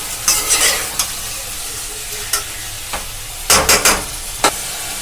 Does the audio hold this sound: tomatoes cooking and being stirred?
yes